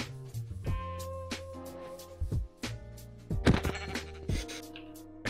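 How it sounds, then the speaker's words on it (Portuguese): Sheep in Minecraft bleat repeatedly, a series of nasal, wavering baas that overlap and come in uneven bursts, fairly close, with a few soft thunks between them. "Achei uma ovelha."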